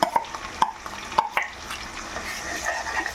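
An onion paste ground with cumin, coriander, cloves and cinnamon fries in a pan, with a steady low sizzle broken by several sharp scraping stirs near the start, close and unaccompanied by voices.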